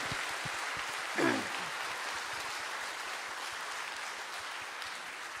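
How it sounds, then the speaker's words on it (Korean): A church congregation applauding during a Sunday sermon, a faint, steady wash of clapping that stays even throughout, with a brief vocal swoop near the start. "박수 한번 주세요"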